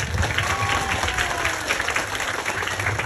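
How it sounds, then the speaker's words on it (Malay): Audience clapping in applause for a student council chair at an Acehnese religious sermon gathering, a steady dense patter of many hands held at even loudness throughout, with faint voices underneath. "Tepuk tangan sekali lagi."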